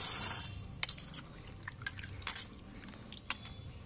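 Potatoes and radish green stems are rinsed in water, giving scattered small splashes and drips in quick irregular bursts over a quiet background.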